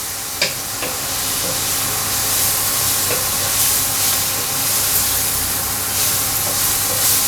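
Chopped tomato pieces cook in a pan for a soya chunk (meal maker) curry, giving a steady broadband sizzle and hiss throughout with a few faint clicks of stirring, no voices.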